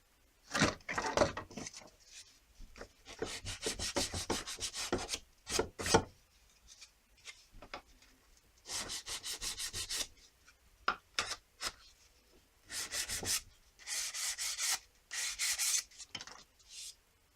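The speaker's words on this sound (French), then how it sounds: "Donc maintenant je vais un peu poncer." Hand sanding of pallet-wood baseboards for a staircase, with bursts of scraping, raspy back-and-forth strokes in repeated runs separated by short pauses, close and fairly quiet with no talking.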